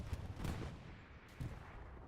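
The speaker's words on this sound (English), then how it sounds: "And then those anti-tank guns, they are opening up back on the IS-1 again." Anti-tank guns firing at an IS-1 tank in a battle in the game Hell Let Loose, heard as a few low, muffled distant thumps over a steady rumble of combat.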